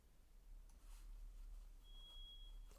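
A household smoke alarm under test gives one thin, steady high-pitched beep lasting about a second near the end, faint and distant over a quiet room hum.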